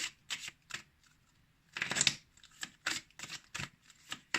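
Oracle cards are shuffled and drawn by hand, with crisp, papery riffling bursts in short irregular bursts separated by quiet pauses, close and fairly soft, with one longer shuffle in the middle.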